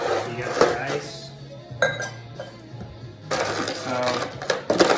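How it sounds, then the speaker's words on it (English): Ice cubes clink into a glass for a bourbon old fashioned, several bright scattered clinks with a person talking over them. "And then what you want to do with this, fill it with ice."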